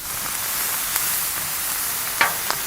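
Shrimp frying in beef fat on a Blackstone griddle, a steady low sizzle with faint crackles, plus a couple of sharper pops or scrape sounds near the end, close and alone with no talk.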